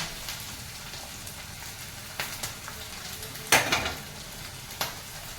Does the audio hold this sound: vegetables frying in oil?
yes